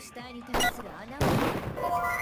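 A gunshot fired during a Danganronpa class trial: two sharp, loud bangs about half a second apart, the second followed by a ringing, crackling tail over a faint musical background.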